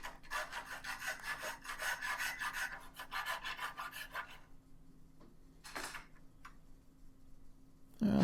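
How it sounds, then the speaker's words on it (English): Sanding or filing a window modification by hand, with a fast rhythmic rasping of repeated strokes for about four seconds, then quiet with a few isolated scrapes and a thump at the end. "All it takes, a couple of rubs."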